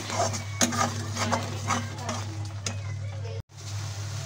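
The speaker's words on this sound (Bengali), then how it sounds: "এখন আমি মশলাটা ভালোভাবে ফ্রাই করে নেব" Spices for a masala mushroom gravy fry in a pan while being stirred, giving light metallic clinks and scrapes over a steady low hum, with a brief dropout near the end.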